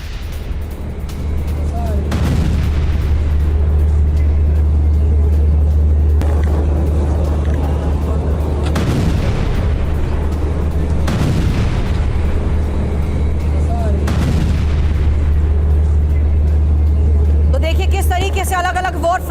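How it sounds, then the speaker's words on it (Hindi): IDF artillery shelling in Rafah produces several dull, heavy booms spread irregularly over a constant low rumble, with a voice talking over much of it. "राफा में आईडीएफ की जबरदस्त शेलिंग जारी है"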